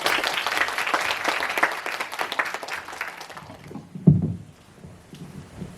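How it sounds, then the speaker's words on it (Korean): An audience at a fantasy synopsis presentation event applauds to welcome a presenter, a lively round of clapping that thins out after a few seconds, followed by a single thump and quiet room tone. "큰 박수로 맞이해 주시기 바랍니다."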